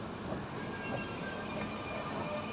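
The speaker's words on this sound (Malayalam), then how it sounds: "മെട്രോ വന്നു." Steady rumble of a Dubai Metro train with a faint whine running throughout, a continuous low roar without talk, like a metro pulling into a station nearby.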